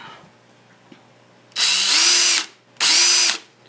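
Power drill boring holes into a DIY aquarium stand, two loud, close whirring bursts of about a second each that start and stop abruptly, separated by a short pause.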